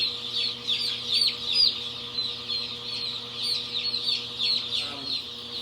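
Many chicks peep continuously in high, overlapping chirps over a steady mechanical hum, close and busy throughout.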